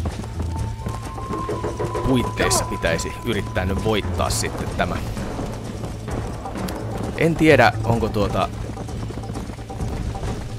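Horse hooves gallop in the video game Red Dead Redemption with a rapid, steady clip-clop rhythm under someone talking continuously in Finnish, and game sounds sit in the background.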